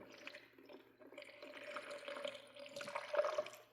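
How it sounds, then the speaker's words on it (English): Distilled water poured into a car battery to flush it, a quiet close trickle and gurgle of liquid filling the cells, uneven and faint with small splashes toward the end. "what I'm going to do is put distilled water in this. Try and flush it"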